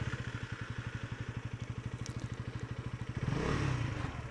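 A KTM Duke 250 motorcycle engine idles close by with a steady, fast pulsing thump, then gives a brief blip of throttle near the end.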